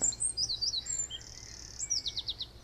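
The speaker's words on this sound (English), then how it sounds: "So many birds here." Small birds chirp in quick repeated trills and short whistled phrases beside a sunny fishing lake, clear and fairly close against a soft outdoor hush.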